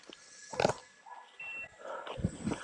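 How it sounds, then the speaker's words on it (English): Pig hunting dogs whimper and yelp in rough scrub country, with scattered close cries and rustling amid faint background noise. "Come on, good dogs."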